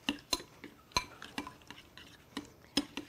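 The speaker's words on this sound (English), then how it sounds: "And we're gonna mix that up." A spoon stirs cocktail sauce in a bowl, giving a run of irregular clinks and scrapes against the dish. The sounds are close but fairly quiet.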